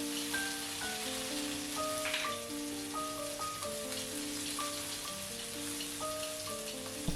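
Minced garlic and spring onion fry in hot vegetable oil in a pan, making a steady, soft crackling sizzle like light rain beneath a gentle melodic background tune throughout.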